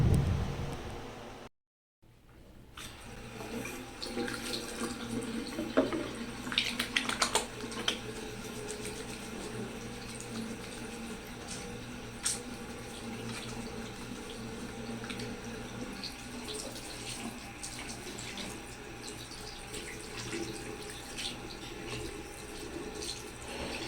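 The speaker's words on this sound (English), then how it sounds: "So now that I washed my hands," A tap runs while hands are washed at a sink, a soft steady splash with small clatters and brief drips, quiet and continuous after a moment's silence near the start.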